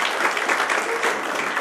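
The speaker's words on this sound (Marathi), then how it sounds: "टाळ्या जोरदार देऊया" An audience at an award ceremony applauds, a dense, steady wash of clapping that carries on evenly throughout.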